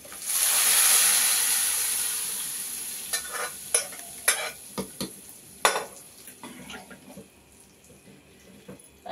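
Munagaku pappu, a drumstick leaf dal, sizzles and fries in a pan with a strong initial hiss, then a spoon stirs and scrapes it in scattered clinks and scrapes, close and fairly quiet.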